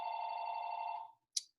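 A telephone rings in the background with one steady sustained tone lasting about a second, then falls silent before a short second burst begins. It is faint and heard alone, with nobody talking over it.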